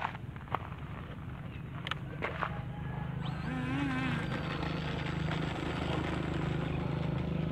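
An RC model airplane motor buzzes steadily as the plane taxis toward the runway, a thin whine that grows louder and steadier over the clip, with a few sharp clicks early on.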